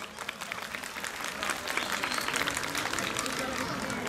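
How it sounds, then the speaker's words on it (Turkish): Crowd applauding a mayor at an outdoor neighborhood iftar gathering in Tokat, Turkey: dense, sustained clapping from many hands, steady and fairly loud throughout, with voices mixed underneath. "Başkanımıza bir alkış rica ediyorum sizden."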